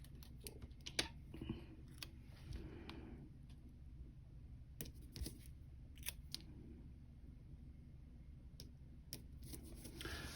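Scissors snipping through paper or thin cardboard while trimming a piece from a box for a planner, a series of short, crisp close cuts with pauses between them and no talk.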